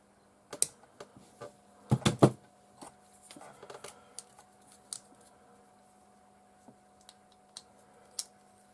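Small snips cut a plastic tab off a part from a HobbyBoss 1/72 F-84G Thunderjet model kit, with a cluster of sharp close clicks followed by sparse quiet taps.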